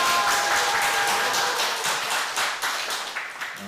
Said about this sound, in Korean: 이 모든 분들이 박수 한번 쳐드립시다.